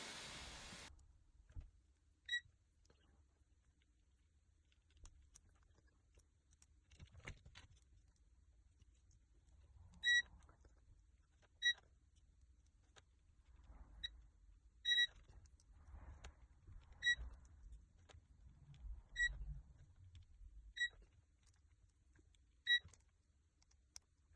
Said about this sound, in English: let's test for continuity from the pins to the soldering points on the controller